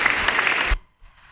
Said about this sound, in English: I need the applause, please. Applause.